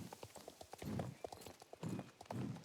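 A western horse's hooves clip-clop steadily in the video game Star Stable, with a clear, even rhythm of close hoofbeats.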